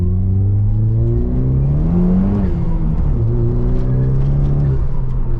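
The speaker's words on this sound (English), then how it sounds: "I hope you guys can hear on camera the blow-off valve." A modified Pontiac Solstice GXP Turbo accelerates hard, its engine loud and close with rising revs, a dip at a gear change, then climbing again in a sustained drone.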